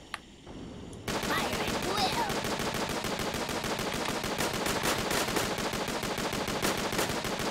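Continuous rapid machine-gun fire in the Tiny Troopers video game, loud, dense and steady after a quieter opening moment, with a voice briefly heard over the shooting.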